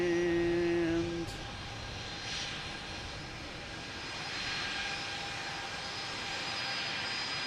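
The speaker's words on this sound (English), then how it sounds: "there's the A380 with its gear already down" An Airbus A380 on approach to Boston Logan with its landing gear down, its jet engines a broad, distant roar that swells slightly and holds steady after a brief tonal hum fades.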